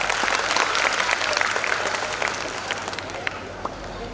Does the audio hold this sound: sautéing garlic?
no